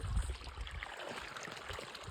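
Water from a running motor pump flowing along a farm channel into a vegetable field, a soft continuous trickle and gurgle heard alone, with a brief low thump near the start.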